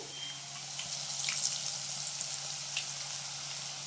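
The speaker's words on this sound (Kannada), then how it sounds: "ಈ ಥರ ಬೋಂಡು ಜಾಲ್ರೆ ಬರುತ್ತಲ್ವ, ಅದರಲ್ಲಿ ಈ ರೀತಿ ಹಿಂಗೆ ಹಾಕ್ಕೊಳ್ತಾ ಹೋಗೋಣ" Boondi batter drips through a slotted ladle into hot oil on a low flame, giving a steady, even sizzle with faint crackles, no voices.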